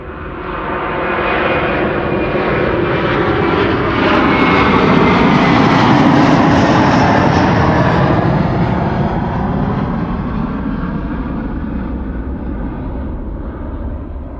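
A departing airliner at Amsterdam Schiphol Airport roars past close and loud, its engine noise swelling to a peak mid-way and then slowly fading as it climbs away.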